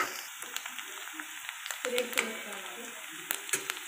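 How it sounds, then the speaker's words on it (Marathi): Onion frying in a pan until browned for a Maharashtrian broccoli bhaji, a quiet steady sizzle with small spatula clicks and scrapes scattered over it, fairly close and low in level. "यात आपण कांदा टाकलेला आहे, कांदा लाल होईपर्यंत आपण परतून घेऊ"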